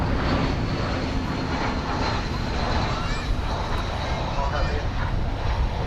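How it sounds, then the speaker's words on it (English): An American Airlines airliner arriving from San Francisco at Dallas/Fort Worth roars as a broad, steady engine rumble and hiss that holds evenly throughout at moderate distance. "American 2904 coming in from the city adjacent to the bay, San Francisco."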